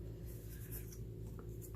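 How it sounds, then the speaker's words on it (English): A bone folder rubs and presses glued cardstock flat, giving a soft, continuous scraping and rubbing close up, steady and quiet with no speech. "use my bone folder just to make sure that there's no bubbles in the glue underneath"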